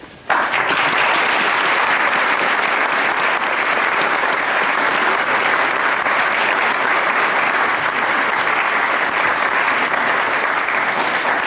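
An award ceremony audience bursts into sustained applause at New York City Hall, a dense, loud wash of clapping that starts abruptly and continues evenly without letup.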